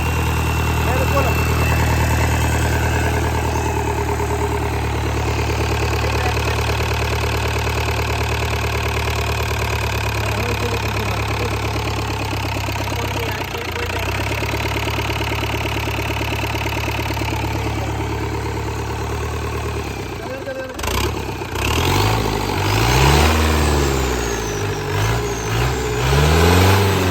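A TATA 1109 truck's diesel engine runs at a steady, loud, grunting idle close by, then is revved near the end, the pitch rising and falling in uneven surges.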